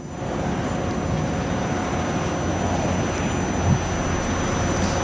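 Sukhoi Su-30SM jets flying at the Dubai Air Show, heard as a steady, broad roar of jet engines that holds at an even loudness throughout, with no voices over it.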